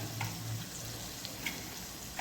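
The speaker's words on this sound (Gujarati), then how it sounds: "અહીંયા ટામેટા વઘારી લીધા છે" Steady close sizzling and frying hiss of tomatoes tempered in a frying pan fills the clip, with a few faint scraping stir sounds on top.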